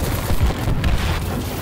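A rumbling explosion in the sci-fi shooter Destiny 2, a dense low boom with crackling debris that fills the whole moment and continues without pause.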